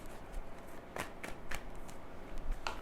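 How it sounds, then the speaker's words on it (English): Tarot cards are shuffled and drawn during a love reading, giving quick papery riffles and snaps in several short bursts over a faint room hush, with no voices. "So let's pull some cards from universe."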